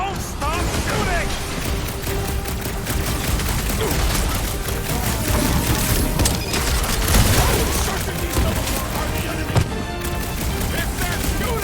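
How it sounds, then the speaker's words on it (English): Gunfire in the Marvel's Guardians of the Galaxy video game fills the whole stretch, a dense, loud, continuous barrage mixed with booms and game effects, with characters talking throughout. "If they're shooting at us, then yes!"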